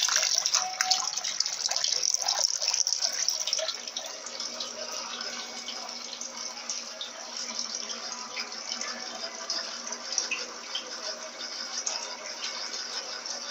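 Water pours steadily into an Electrolux Turbo Economia 15 kg LTD15 washing machine during filling. The gushing rush is continuous and fairly close. It is louder for the first few seconds, then settles into a constant flow.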